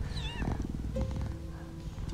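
Cats in a Shelter 2 game cry and purr, with a high sliding meow at the start followed by rough, pulsing purring and low rumbling tones throughout.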